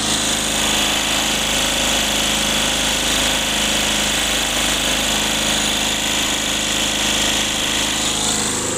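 A small carbureted engine on an old plow runs at a high, racing idle with an overly rich carburetor, a loud, steady, continuous buzzing drone that never lets up, with no talking.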